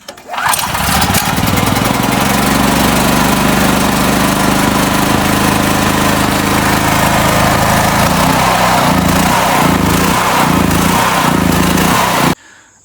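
A Generac GP5500 portable generator engine starts after about a second and runs loud and steady, its rough, pulsing engine drone carrying on without pause until it cuts out abruptly near the end.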